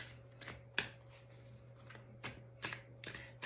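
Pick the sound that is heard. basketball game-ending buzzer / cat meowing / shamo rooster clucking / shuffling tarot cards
shuffling tarot cards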